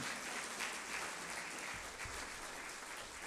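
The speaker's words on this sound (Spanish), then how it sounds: "Dale una ofrenda de palmas al Señor." A church congregation claps together in sustained applause, a dense steady roar of hands that holds evenly for a few seconds with no pause.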